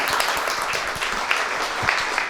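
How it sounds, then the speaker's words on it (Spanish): Audience applause closing a talk on primary care protocol for people with disabilities, with a brief burst of steady, moderately loud clapping throughout. "nos merecemos todos un aplauso para cerrar"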